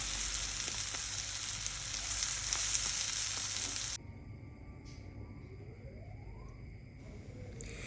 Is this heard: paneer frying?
yes